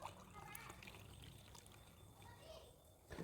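Water poured into a container to dilute mustard cake fertilizer for a brinjal plant, a steady close trickle and splash running continuously, with faint voices in the background.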